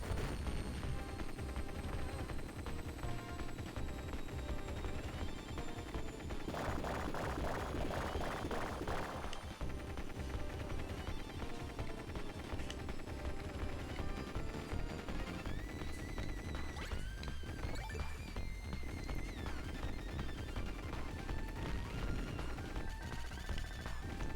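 Rapid, dense gunfire from the Sega Genesis game Contra Hard Corps crackles continuously over busy game music and effects, with a thicker burst of shots partway through.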